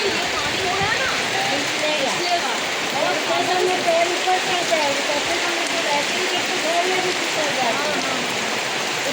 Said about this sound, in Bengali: বাইরে বৃষ্টির অবস্থা দেখো, এই দেখো বাইরে বৃষ্টি দেখো